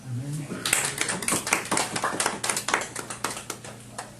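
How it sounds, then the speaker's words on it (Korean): A church congregation claps together in thanks during a Sunday morning sermon service, a burst of many hands in sharp, dense, irregular claps that start after a brief spoken line and continue to the end. "우리 모두 은혜를 주신 하나님께 감사의 박수를 한번 올려드리도록 하겠습니다"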